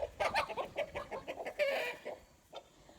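Hens fighting cluck and squawk in a rapid, agitated flurry, a scuffle of overlapping calls that trails off into quieter clucks.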